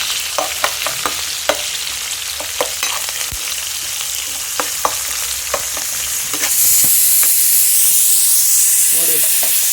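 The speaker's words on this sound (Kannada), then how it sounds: "ಸೊ ಆನಿಯನ್ ಹಾಕ್ಕೊಂಡು ಸ್ವಲ್ಪ ಲೈಟಾಗೆ ಫ್ರೈ ಮಾಡ್ಕೊಳ್ಳಿ" Onions frying lightly in a hot pan, with a close sizzle, sharp clicks and scrapes of stirring, then a loud rushing hiss of steam taking over near the end.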